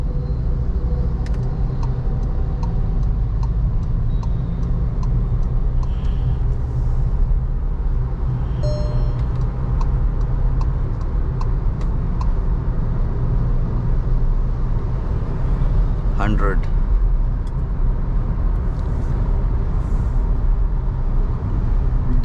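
Steady cabin drone from a Skoda Slavia 1.5 cruising on a highway at around 80–120 km/h, with continuous low road and engine rumble and a brief passing whoosh midway.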